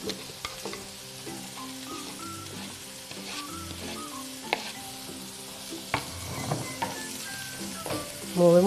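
Minced garlic sizzles and fries in a pan for lentil meatballs, with a steady crackle broken by the clink and scrape of a utensil stirring it and a brief louder hiss near the end.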